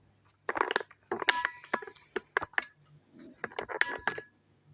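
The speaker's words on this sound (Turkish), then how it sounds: "Kuşburnuyu ezdim." Rosehips being crushed for an Erzurum-style rosehip tirit dish, heard as a run of close, sharp crunching and cracking bursts in an irregular rhythm, with no talk.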